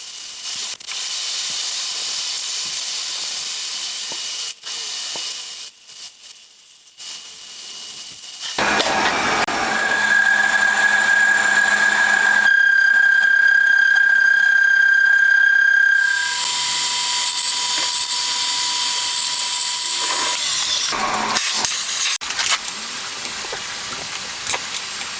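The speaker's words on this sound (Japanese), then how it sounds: "ドリルの下穴が終わったらボーリングバーで予定の直径に仕上げていきます" A boring bar finishes a drilled hole to final diameter in a crankshaft part for a handmade 125cc four-cylinder, 16-valve engine: a steady loud machining hiss and whine with a shrill tonal ring, stopping and restarting.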